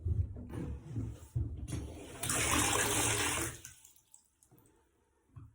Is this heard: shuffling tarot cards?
no